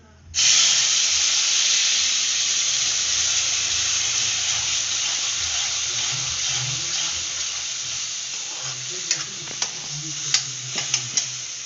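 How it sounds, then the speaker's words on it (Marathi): Spice masala hits hot oil and bursts into a loud, steady sizzle that holds for several seconds, then eases slightly while a few sharp spatters and taps pop near the end, cooking a Khandeshi-style fish roe curry. "तेल गरम झालेलं आहे मसाला टाकते आहे"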